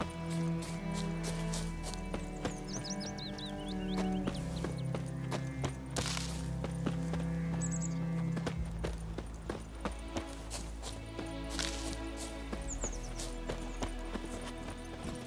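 A horse gallops in The Witcher 3 with steady rhythmic hoof clip-clop, alongside occasional whinnies and game music and ambience, loud and close throughout.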